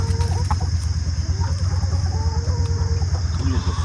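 Chickens cluck steadily at a backyard coop during morning chores, a dense, continuous chorus of close fowl calls over a low rumbling background.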